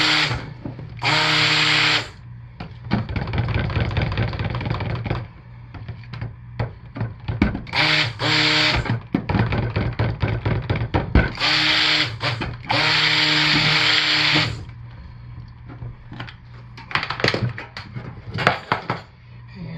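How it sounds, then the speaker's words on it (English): A stick blender whirs in repeated bursts through soap batter, with steady loud motor runs broken by short pauses and quieter stirring between them, while dessert-scented soaps are being made. "Just going to kind of stick blend it with, or hand stir it with the stick blender at first."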